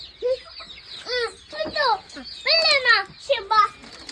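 A brooding hen clucks in a series of short, loud, rising calls close to the listener, with brief pauses between bursts and a voice nearby.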